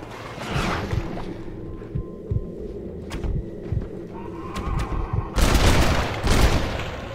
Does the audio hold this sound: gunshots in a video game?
yes